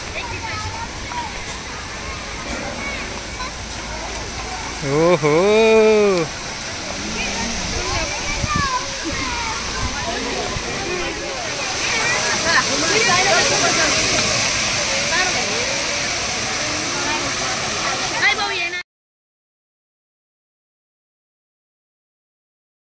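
A waterfall at Namo Grand Central Park in Thane gives a steady, broad rush of falling water, with people talking and calling out excitedly over it.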